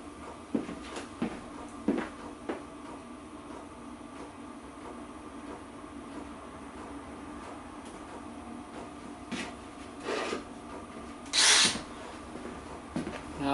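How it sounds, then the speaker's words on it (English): Drilling holes in a Freelander 2 rear differential pinion or crown wheel bearing with a power drill: a few short whirring bursts, the loudest near the end, among clicks and workshop clatter, with no talking. "So if I just quickly drill a couple of holes in that"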